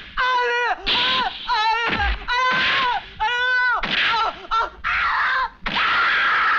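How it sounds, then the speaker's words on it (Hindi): A woman screams and wails repeatedly while being beaten at a police station in a Hindi film scene, with loud, drawn-out cries separated by short gaps throughout. "ये तो गुलदस्ता के चिल्लाने की आवाज है।"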